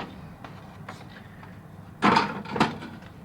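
Plastic packaging of a 1/100 JGSDF Type 07 tank model kit (Cavico Choipla 003) popped open: two close, crisp crackling bursts with a short gap between them, after a few quiet soft handling taps in a hushed room.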